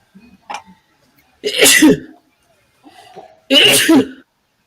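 Two loud, sharp sneezes ring out close by, each preceded by a soft intake of breath, with a faint murmur in between.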